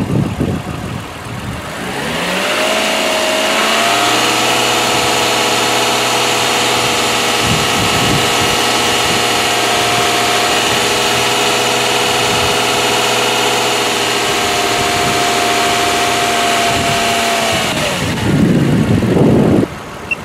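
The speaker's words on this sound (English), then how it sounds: "It says increase RPM to 2500 revolutions per minute and keep it for 10 seconds" Car engine revved up and held steady at 2500 RPM for a battery loaded test, a loud sustained even drone lasting about fifteen seconds after a brief rise, then dropping back toward idle.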